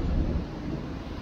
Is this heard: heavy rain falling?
yes